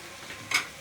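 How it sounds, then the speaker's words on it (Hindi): Chicken do pyaza frying in a pan, a short soft sizzle and stirring scrape that swells briefly near the end, close and fairly quiet with no talk. "इसको भूनेंगे"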